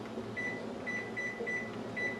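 A microwave oven hums steadily while boiling cicadas, with a continuous low drone and a few faint intermittent tones over the running noise.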